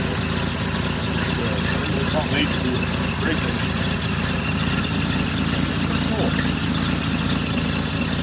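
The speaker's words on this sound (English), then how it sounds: "Old flatheads are quiet, you don't hear much of it. There's a neat old engine." A 1956 Kaiser Super Hurricane flathead six idles with a quiet, steady low rumble and vibration, continuous throughout, while someone talks briefly over it nearby.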